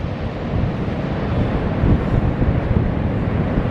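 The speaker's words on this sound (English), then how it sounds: "Yo, look at those waves." Large ocean waves heard from a boat at sea, a continuous low roar of surf and buffeting wind rumbling steadily without pause, loud and close with no voices.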